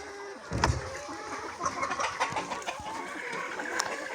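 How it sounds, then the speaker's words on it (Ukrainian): Chickens cluck in a poultry yard, with a steady chorus of near and distant clucks and squawks over outdoor background noise. "Куриний двір."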